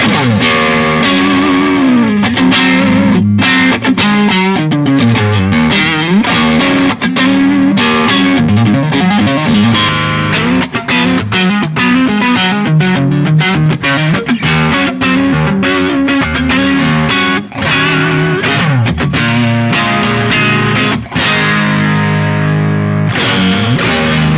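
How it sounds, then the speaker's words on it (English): A loud, heavily distorted Stratocaster electric guitar through a Laney Ironheart Foundry Loudpedal gain channel and speaker cabinet plays a continuous riff of chords and single notes, with thick gain and sustain throughout. "Let's go to the gain channel, Stratocaster, and do the same thing."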